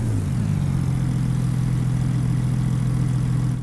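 An older Cat truck engine in Farming Simulator 22 runs steadily, a low, even idle hum with a brief dip in pitch at the start and no talk over it.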